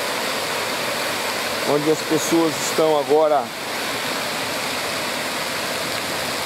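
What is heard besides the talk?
Antônio Monteiro waterfall in Pocinhos do Rio Verde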